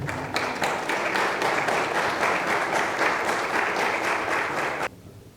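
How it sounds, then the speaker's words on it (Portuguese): An audience at a lecture applauds a speaker with steady, dense clapping for several seconds, then it stops abruptly, leaving quiet room tone. "Uma salva de palmas então para o nosso terceiro palestrante"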